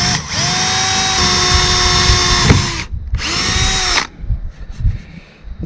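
A power drill whines loudly up close as it bores a pilot hole into the metal wall of a cargo trailer, running in two long bursts with a brief pause between.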